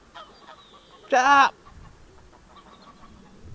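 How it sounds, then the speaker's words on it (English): Geese honk in mating season at a carp fishing spot: one loud, harsh honking burst of about half a second stands out mid-clip, with a voice heard briefly before it. "The only thing that's making a load of bloody racket at the minute is them poxy geese"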